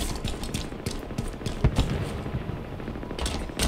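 Warthog-mounted machine gun firing in Halo Infinite, a dense run of rapid automatic bursts with sharp louder shots near the middle and end.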